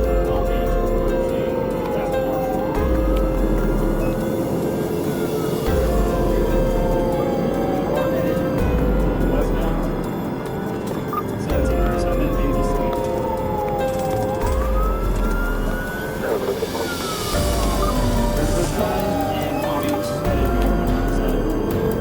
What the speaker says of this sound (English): The trooper activated his emergency lights and sirens in an attempt to initiate a traffic stop